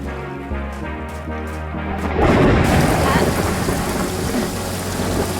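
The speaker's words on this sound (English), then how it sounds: "It's raining." Rolling thunder and steady heavy rain in the video game Paradise Killer, a deep rumble swelling midway and then holding under a dense, continuous hiss of rainfall, with no talking.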